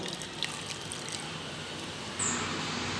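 Water poured into ragi flour in a jar, a steady hissing pour that grows slightly louder toward the end, with no talk over it.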